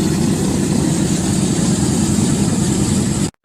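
A Douglas C-47 aircraft's radial piston engine running, a loud, steady droning roar held constant up close, then cut off abruptly near the end.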